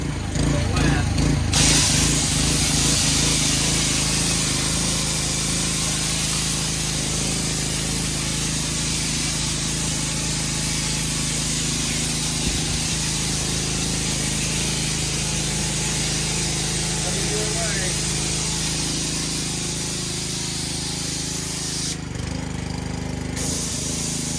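A chassis washing sprayer blasts water under a Winnebago Ekko, a loud, constant close hiss lasting throughout with brief talk near the start and end.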